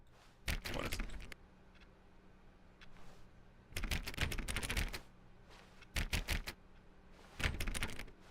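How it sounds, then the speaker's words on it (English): Key presses in The Stanley Parable video game sound like a typewriter, arriving in several separate bursts of rapid clacking with quiet gaps between them. "Everything I press sounds like a keyboard."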